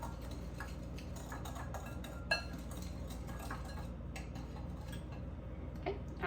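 Cornstarch and sugar stirred together in a bowl, heard as a steady run of light, irregular ticks and scrapes from a utensil against the bowl, fairly close and quiet over a low background hum.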